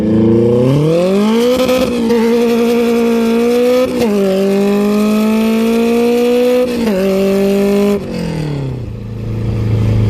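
A Honda Civic EG with a K24 engine swap and hood-exit exhaust revs hard and loud, pitch climbing in repeated surges with brief drops between, a raspy exhaust roar close by, then settling to idle.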